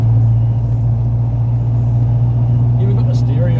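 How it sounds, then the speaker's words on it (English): A Vauxhall Firenza HPF with a Lotus conversion running, a steady low engine hum heard from inside the car, with a voice briefly murmuring near the end. "Almost sounds like a normal car now."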